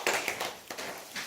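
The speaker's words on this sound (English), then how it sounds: "clap your hands and then rub them briskly" A pair of hands gives a few sharp claps and then rubs briskly together, producing short slaps followed by quick, bursty swishing friction, close and dry, with no talking.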